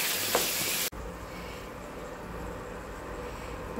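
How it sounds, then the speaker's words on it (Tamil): Steady frying sizzle of chicken sautéing in a pan, a continuous hiss with a brief louder burst at the start, no voices. "ஒரு பத்து நிமிஷம் நல்லா வதக்கி விட்டுட்டு இந்த சிக்கன் வந்து நல்லா ட்ரை ஆகணும்,"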